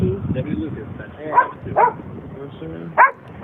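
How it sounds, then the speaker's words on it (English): A dog barks in a few short, sharp bursts spread across the moment, heard beneath steady ongoing talk. "I heard a dog"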